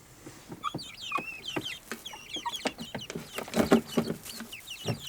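Several hens cluck and murmur close by in short, overlapping bursts, with a few sharper squawks among them.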